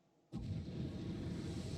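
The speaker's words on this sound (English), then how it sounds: "We see explosions and fire on the planet below." A sudden deep explosion erupting in a Final Fantasy XIV cutscene, followed by a sustained low rumbling roar of fire that stays loud and steady after the initial blast.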